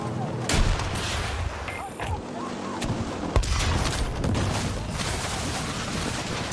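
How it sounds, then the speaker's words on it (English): Cruise missile strike explosions in Battlefield 6 mix with constant gunfire: a dense, booming barrage with several heavier blasts standing out, continuing steadily and loudly throughout. "Hostile cruise strike!"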